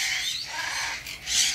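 Loud, harsh macaw squawks and calls fill the air in a short burst at a bird farm, with a shrill cry rising near the end.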